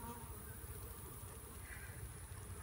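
Honey bees drone steadily as a nuc colony is moved into a new hive. The insect hum is a continuous, even buzz from many bees close by, with no talking over it.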